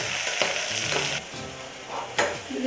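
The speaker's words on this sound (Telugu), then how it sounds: "కాస్త వేగుతున్న టైంలో స్వీట్ కార్న్." Sweet corn frying and being stirred in a pan for biryani, with a steady sizzle and occasional scraping stir strokes close up, no voices.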